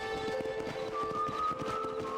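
A horse's hooves clip-clop at a steady walking rhythm in the western video game Red Dead Redemption, soft and moderately close over faint ambient tones.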